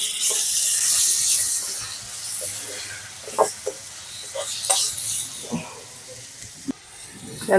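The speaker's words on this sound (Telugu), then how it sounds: "టమాటాలు కూడా మనకు బాగా మెత్తబడిపోవాలి, అంతవరకు ఫ్రై చేసుకున్నాం." Finely chopped tomatoes frying in a pan until soft, a loud bright hiss at first that eases off, broken by occasional stirring clicks and utensil knocks close by.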